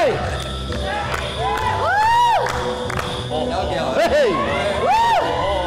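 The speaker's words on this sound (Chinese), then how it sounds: "来掌声给他鼓掌吧" A crowd in a village cheers and whoops loudly to welcome a guest, with excited shouts rising and falling over continuous background noise.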